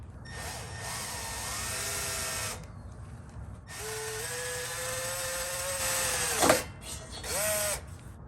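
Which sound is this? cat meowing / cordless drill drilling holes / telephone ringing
cordless drill drilling holes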